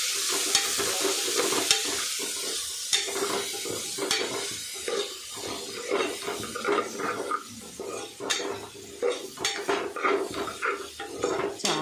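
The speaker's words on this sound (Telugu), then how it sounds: "ఇప్పుడు అదంతా వేసేసిన ఇప్పుడు కలుపుకుంటాను." Green rice with coriander, garlic and green chilli paste is stirred in a pan, with repeated scraping and clinking of a metal spoon over a soft sizzle, fairly close and continuous.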